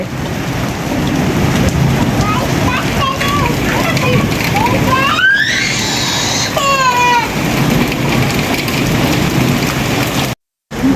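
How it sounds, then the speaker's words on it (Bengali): Heavy rain on a windy day pours steadily, heard from a balcony as a dense, loud wash, with people talking and a few high chirps rising above it. "ব্যালকনিতে বসে বসে বৃষ্টি দেখতেছি"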